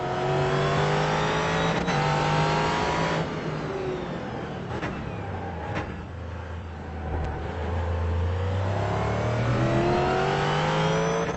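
Race car engine in the iRacing sim at Laguna Seca: a loud, close, continuous engine note that climbs through the revs, drops sharply on downshifts under braking and then builds again, with no talking.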